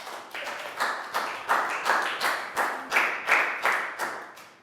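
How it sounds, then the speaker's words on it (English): A classroom group claps for a student in a steady, rhythmic beat, about a dozen sharp, even bursts of clapping close by, with no talking over it. "Big round of applause for Plow."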